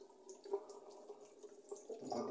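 Warm water running from a tap into a sink, a soft trickling and splashing stream with small drips, quiet and close, swelling slightly at the end.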